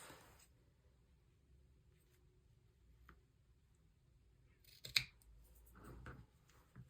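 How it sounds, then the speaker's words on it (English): Scissors trim the corners of a sewn fabric bag: a quiet room with faint snips, then a clearer cluster of sharp close snipping cuts near the end, no talking. "I'm just going to cut my corners. And careful not to cut at the corner."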